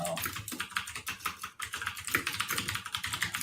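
Fast, continuous typing on a clicky computer keyboard during a podcast recording: dense, close, crisp clacks in an uneven rhythm, with no talking.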